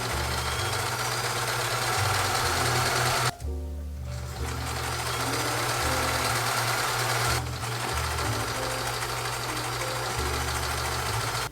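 A sewing machine stitches piping onto the raw edge of a garment sleeve, running in a loud, steady mechanical whir that stops briefly twice before resuming, close by with no talking.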